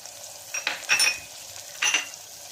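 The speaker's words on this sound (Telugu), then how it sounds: "దీన్ని కూడా బాగా మిక్స్ చేసుకుందాం" Ridge gourd fry with coconut powder is stirred in a pan, giving a few close scraping, rustling strokes over a soft sizzle, with no talking.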